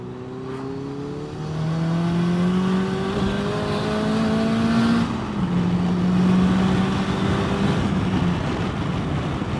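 A Mazda 3 MPS fitted with a big turbo accelerates hard, the engine note rising through repeated gear pulls with brief breaks between them, loud and up close.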